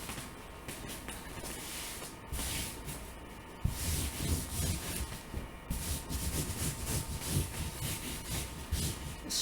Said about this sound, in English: Let's try to smooth it from the middle outward.